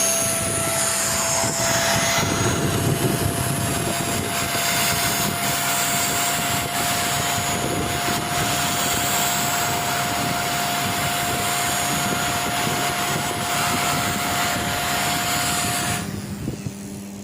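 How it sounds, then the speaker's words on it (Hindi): A rewound armature motor from a Moulinex chopper runs at steady high speed, a loud even whine with a constant tone that holds unbroken for the whole stretch and then starts to wind down at the end. "आपने देखा है कि बगैर स्पार्किंग के हमारी मोटर अच्छे तरीके से चल रही है"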